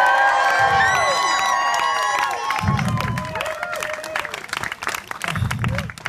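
A street-performance crowd erupts in loud cheering, whooping and applause, with excited shouts rising at the start, then clapping continuing and fading slightly toward the end.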